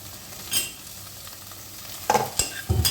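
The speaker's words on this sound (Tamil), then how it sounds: "இந்த தக்காளி நல்லா வதங்கட்டும்" Chopped tomatoes sautéing with shallots and curry leaves for tomato kurma, quiet sizzling with a few louder scrapes and stirring knocks of a spoon in the pan.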